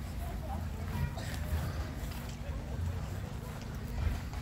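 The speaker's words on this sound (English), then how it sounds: "we're going to watch a few horse and traps going down" Hooves of a horse pulling a trap clip-clop steadily along a lane at a horse fair, moderately near, under constant crowd and outdoor background noise.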